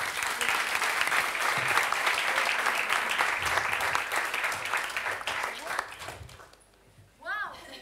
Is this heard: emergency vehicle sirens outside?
no